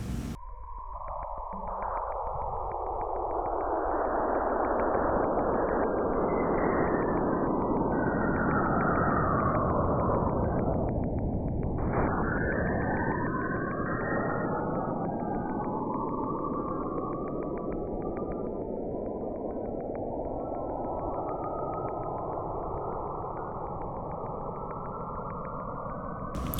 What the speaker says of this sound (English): So let's take a listen to what Cassini picked up between Enceladus and Saturn.